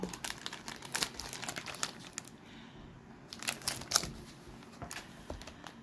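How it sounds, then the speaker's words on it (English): Bag being unzipped and a mail-call giveaway package being unpacked, heard as close crinkling, rustling, and scratchy handling noises in quiet bursts, with no talk over them. "Let's unzip it."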